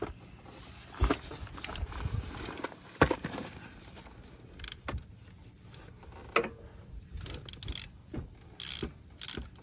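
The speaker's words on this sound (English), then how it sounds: "So I have right here an 8mm socket, and we are going to take off the oil filter by taking off these 3 bolts." An 8mm socket on a hand ratchet loosening the three oil filter bolts on an ATV: bursts of quick ratcheting clicks and metallic mechanism noise, close up, separated by brief quieter gaps.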